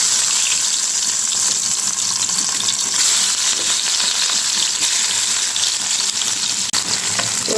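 Puti fish coated with turmeric and salt frying in hot oil in a pan, giving a steady, loud, crackling sizzle throughout with no talking.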